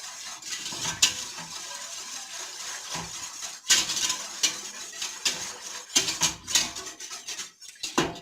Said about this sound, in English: And then you're going to whisk that up really well.